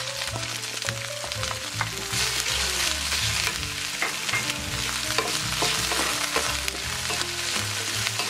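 Shredded chicken and scallions stir-fried in a hot wok give a loud, continuous sizzle with scraping spatula strokes throughout.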